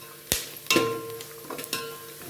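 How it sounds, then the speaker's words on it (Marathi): Puffed rice bhel tossed with coriander powder and spice masala, giving a few quick close rustling stirs and light scraping against the bowl in short bursts. "आता हे छान मिक्स करून घेऊया."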